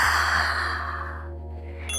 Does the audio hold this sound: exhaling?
yes